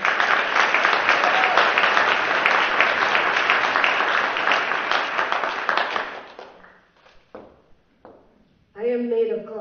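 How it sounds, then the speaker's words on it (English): An audience at a Day of Hope 2017 event applauds young organisers with loud, dense clapping for about six seconds. The clapping thins to a few scattered claps before a speaker begins talking. "Can we please give them a round of applause?"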